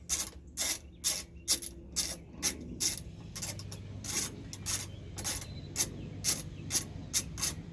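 A ratchet wrench with a 10mm socket clicks in quick, evenly repeated bursts while loosening parts during disassembly of a 1999 Sierra's air conditioning system, close and alone.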